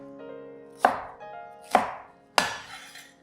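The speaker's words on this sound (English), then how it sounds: "Pat down the white part to help it release its flavor." Spring onion whites struck flat with a knife on a cutting board, three sharp separate thumps spaced about a second apart, close and clear.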